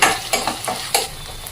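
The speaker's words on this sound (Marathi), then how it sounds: "यामध्ये आपण एक बारीक चिरलेले टोमॅटो घालून घेऊयात आणि हे सुद्धा परतून घेऊयात" Finely chopped tomato sautéing in a pan over softened onion for a chana dal amti, with a steady close sizzle broken by several brief scraping stirs.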